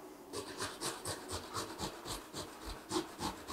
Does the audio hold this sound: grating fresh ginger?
yes